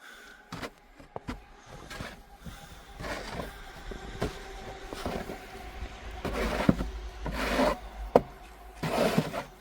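A snow shovel scrapes across snow in uneven, rasping strokes, with louder, gritty pushes toward the end and a low rumble beneath.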